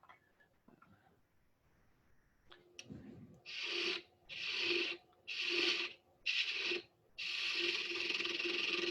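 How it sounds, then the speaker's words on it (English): A spindle gouge cuts a wooden hollow sphere ornament spinning on a lathe, loud hissing cuts in four short bursts separated by pauses, then one longer sustained pass, with a steady low motor hum beneath. "I'll just use my spindle gouge"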